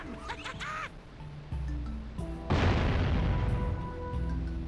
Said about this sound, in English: I'm about to blow the pelican up with a cannon